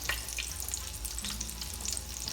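Black bean cakes browning in canola oil heated on medium to high, a steady close sizzle and crackle of frying with faint stirring or shifting sounds, no talking.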